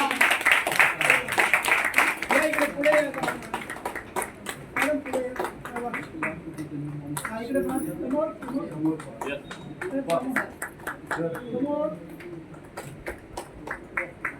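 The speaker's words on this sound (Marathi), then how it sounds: "सगळ्यांनी जोरदार प्लीज टाळ्या वाजवून" Audience applause at a Marathi gathering for a guest, Dr. Rajendra Padture: scattered, fairly close clapping, loudest at the start and then thinning but continuing throughout, mixed with voices and murmur.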